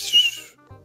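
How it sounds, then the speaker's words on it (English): A short, thin whistle rings out in a Minecraft FNAF roleplay game, bright and close, then fades into quiet low-level sounds within a second. "That was a nice whistle."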